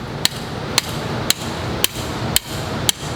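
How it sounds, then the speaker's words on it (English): Rubber mallet striking a riser bushing during a Harley-Davidson Road Glide front end install, six sharp, evenly spaced knocks about half a second apart, close and loud over a low background hum. "It's a rubber mallet."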